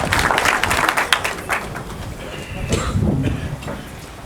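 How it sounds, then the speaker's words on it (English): A crowd at a schools savings promotion national draw claps in a dense burst of applause that gradually thins and fades, with some murmuring underneath. "Let's give him a round of applause."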